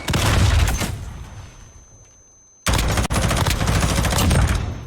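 Automatic gunfire in a Call of Duty League 2020 championship match, loud continuous bursts of rapid shots, a brief lull, then another sustained burst, with no talking.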